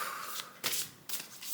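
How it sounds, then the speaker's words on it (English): A deck of cards shuffled by hand, three quick riffling bursts in close succession, near and crisp, with no talking. "I'm going to shuffle again"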